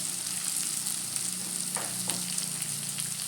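Spices for amla chutney being stirred and mixed in a pan over heat, a continuous close sizzle with soft scraping strokes of a spoon.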